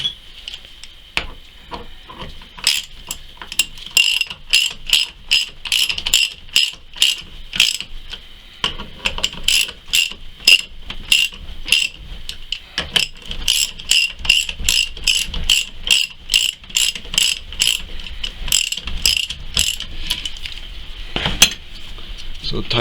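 Ratchet wrench rapidly clicking as bolts are tightened evenly to press a rear wheel bearing into a Honda Element. The bursts of close metallic clicks repeat for a long stretch, with brief pauses and a faint clank or two.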